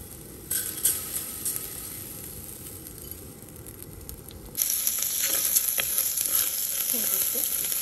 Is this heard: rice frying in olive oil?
yes